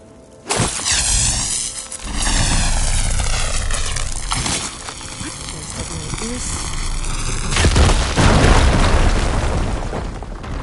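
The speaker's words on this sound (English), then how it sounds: "Should be able to blow up that fire gleam." A firegleam crystal deposit is blown up in Horizon Forbidden West, with a sudden loud boom and roaring, rumbling blast mixed with game sound effects and a later second surge of crackling debris.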